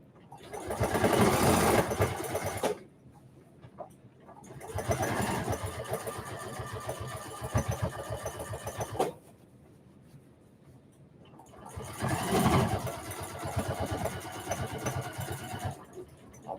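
A sewing machine stitches a fabric maker caddy in three long runs of rapid, steady whirring and clatter, close and loud, separated by quiet pauses.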